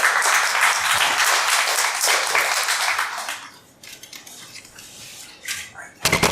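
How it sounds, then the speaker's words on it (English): At a poetry open mic night, an audience claps loudly for an arriving reader, then the clapping fades to a few scattered claps and faint room noise before a sudden brief burst at the end. "Big round of applause for Robinson"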